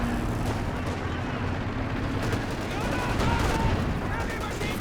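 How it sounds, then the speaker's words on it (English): Anti-tank gun fire rings out in a Company of Heroes 2 two-versus-two match, with repeated booming shots amid a continuous battle din while a commentator talks over it. "Command Panther taking some AT gun fire of its own though"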